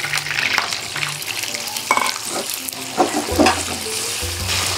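Beef and ginger slices frying in oil in a pan, a loud dense sizzle with scraping stir strokes and utensil clinks, continuous throughout.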